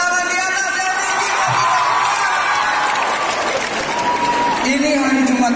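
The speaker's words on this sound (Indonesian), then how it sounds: "Boleh tepuk tangan di atas yang tinggi" Concert crowd at a school arts festival in Makassar claps hands steadily and cheers, a dense continuous wall of applause with whoops, while someone talks over a microphone and music tones sound faintly.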